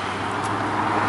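An Audi RS7 passes nearby, a short burst of road and engine noise that swells toward the end.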